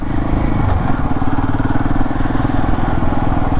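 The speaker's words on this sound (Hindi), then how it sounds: "बाइक चढ़ती जा रही है।" A motorcycle engine drones loud and steady up close as the bike climbs a paved mountain road toward Hatu Peak near Narkanda, Himachal Pradesh, with a continuous throbbing rumble and no pauses.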